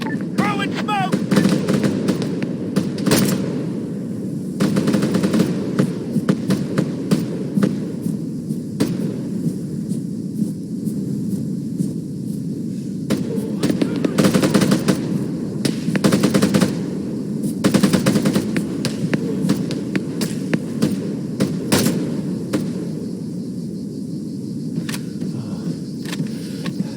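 Rapid automatic gunfire bursts and scattered single shots from an ArmA 3 military firefight, loud and continuous across the whole stretch, with voices calling out over the shooting.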